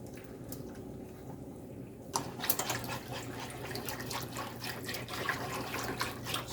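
Thick tomato sauce poured from a container into beef enchilada filling, a wet splashing and glugging that starts abruptly partway through and continues close and steady to the end, with no talking.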